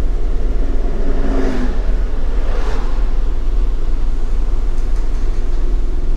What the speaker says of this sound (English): Always a lot of traffic here